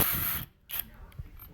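A ratchet wrench loosens bolts on a TH400 automatic transmission oil pump, giving a short close clicking burst followed by a few faint clicks and a soft metallic tap.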